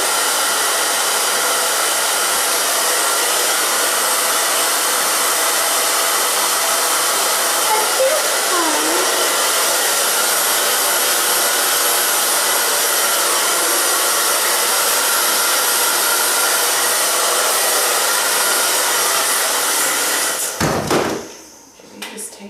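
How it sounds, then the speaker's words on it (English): A hair dryer blows steadily as hair is blow-dried section by section, a loud continuous broadband whoosh lasting about twenty seconds before cutting off abruptly with a few clunks. "blow dry"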